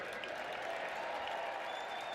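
Baseball crowd at Nationals Park gives a soft, distant wash of applause and cheering that holds steady and low throughout the brief moment.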